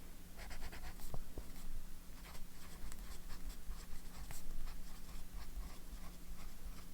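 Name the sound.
fountain pen writing on paper with Diamine Writers Blood ink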